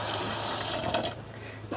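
Tap water runs steadily into a pot in a kitchen sink during spaghetti cooking, a close, continuous splashing flow that changes tone near the end as the pot fills.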